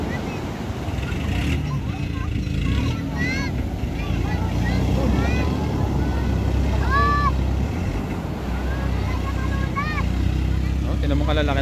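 A motorboat engine drones steadily over open sea among waves, with wind buffeting the microphone and faint voices and calls scattered through the noise.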